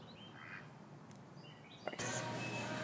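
Ducks quacking at a lake park in spring, a few soft calls against faint outdoor ambience, then a sudden burst of louder broadband noise near the end.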